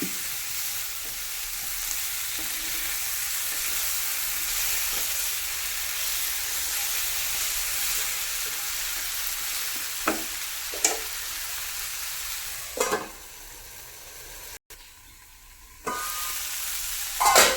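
Continuous sizzling of vegetables frying in a pan, with occasional spatula scrapes and stirs, close up; the sizzle briefly drops near the end.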